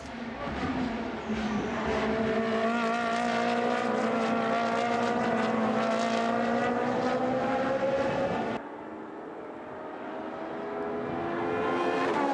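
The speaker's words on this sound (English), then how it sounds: "Car sounds absolutely phenomenal as they pass that particular camera position." A Kessel Racing race car roars past up close at the 2016 Sochi round, its engine note sliding down in pitch as it goes by, then another car's engine rises in the distance.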